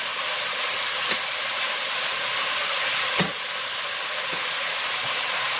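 Green beans sauté in a pan with a loud, steady close sizzle and hiss, broken by a few faint clicks of a utensil.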